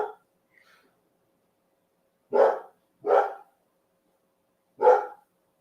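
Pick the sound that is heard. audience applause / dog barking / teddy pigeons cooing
dog barking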